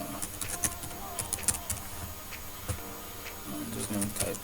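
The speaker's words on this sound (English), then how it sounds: "I'm just going to type in random stuff." Someone types on a computer keyboard, giving quiet, irregular, close-up key clicks scattered through the moment.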